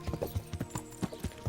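Galloping horse hooves in the medieval game Kingdom Come: Deliverance, a close, even run of thudding clip-clop beats repeating rapidly with nothing else over them.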